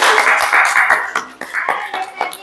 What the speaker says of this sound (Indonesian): Oke, sudah beri tepuk tangan untuk kelompok kinesthetik.